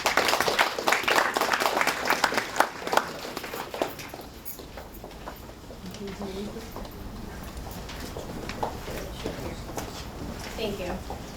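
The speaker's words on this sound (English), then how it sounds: "So let's give her a round of applause." Audience applause at a female entrepreneur event, dense clapping loud at first and thinning out after about four seconds into a quieter room with a voice beginning to speak.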